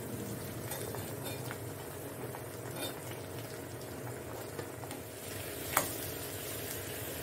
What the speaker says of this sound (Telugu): వీటిని నూనెలో ఒక 2 నిమిషాలు ఫ్రై చేద్దామండి